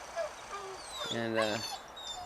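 Alaskan sled dogs whining and yipping, a rising harmonic whimper at mid-clip over a steady outdoor background, with faint higher squeals around it.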